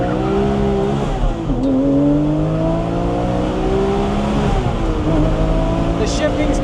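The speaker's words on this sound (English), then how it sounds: "Flat sixes always sound damn good." Porsche 997 GT3 flat-six engine with dry sump revving loudly up and down through gears, harmonic whine rising and dipping with shifts, close and continuous, with someone talking over it.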